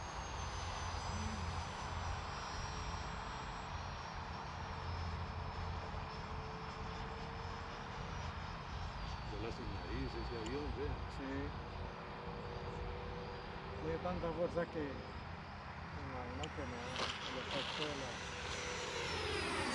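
A small F-22 model jet with a 64mm electric ducted fan comes in to land, its thin whine steady and fairly faint, with voices talking over it.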